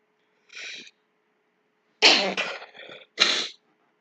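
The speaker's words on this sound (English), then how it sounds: "It's a sudden sneezing, actually." A person sneezes suddenly: a short soft intake, then a loud close sneeze with a quick follow-up and a final burst, alone in a quiet room.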